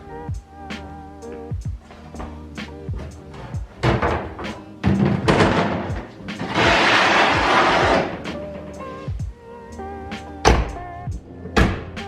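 A series of sharp knocks and thuds, then a car door swinging open with a long rush of motion and a final click, with no one speaking.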